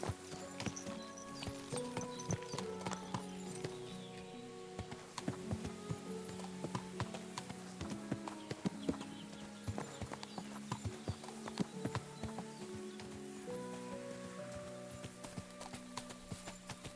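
Horse-drawn carriages in the video game Kingdom Come: Deliverance 2, hooves clip-clopping in a steady, continuous rhythm with wheel and harness noise, under a low game music bed.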